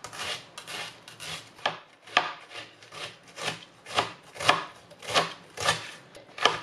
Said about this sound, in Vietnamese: tỏi ớt bằm nhuyễn